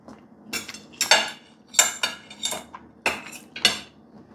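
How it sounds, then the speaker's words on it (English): A knife and fork work through a pan-roasted duck breast on a plate, giving a series of sharp metallic scrapes and clinks against the china in irregular bursts, close and fairly clear, with no talking. "I'm having zero trouble cutting through with my knife"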